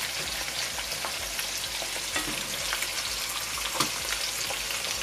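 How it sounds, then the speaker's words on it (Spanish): Salvadoran fish cakes fry in oil with a strong, close, steady crackling sizzle, broken by occasional sharp pops and light stirring clicks, with no talking. "a que quede bien frito."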